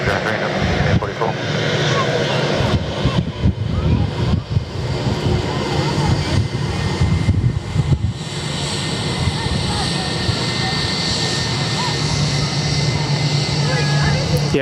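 An Airbus A320 lines up on runway 03 at Perth Airport, its engines giving a steady, loud whine and roar throughout while people talk over it.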